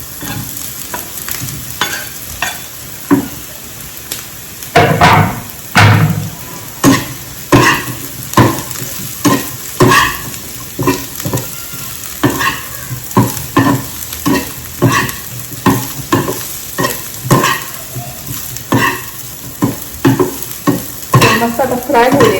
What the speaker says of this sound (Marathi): मस्त आता फ्राय होऊ देते छानपैकी